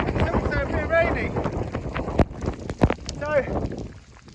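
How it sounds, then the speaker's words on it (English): Gusty wind buffeting the microphone on an exposed, rainy mountain ridge top, rough and uneven, with a voice talking through it and sharp bursts of noise. "As you can see, it's a bit windy."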